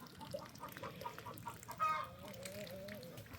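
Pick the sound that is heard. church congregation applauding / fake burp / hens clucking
hens clucking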